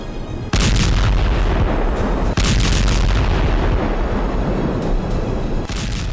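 An MK-84 unguided free-fall bomb detonates in a huge, rumbling blast, and more heavy booms follow across several seconds, loud and sustained with no pause between them.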